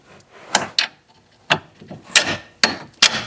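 Bolts are tightened on the steering knuckle of a 2006 Toyota Matrix during a repair. Close, loud bursts of ratcheting and scraping repeat about eight times in an uneven rhythm, with no voices.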